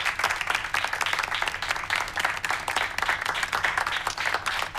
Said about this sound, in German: Für den Applaus bedanken wir uns auch recht herzlich.